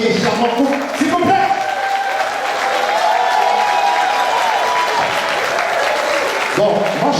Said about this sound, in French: le public présent fait un tonnerre d'applaudissements pour ce joli et charmant couple